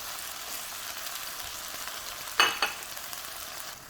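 Strips of beef short rib sizzling in a hot pan, a steady crackling fry with a brief louder burst of stirring near the end, close and with no talking.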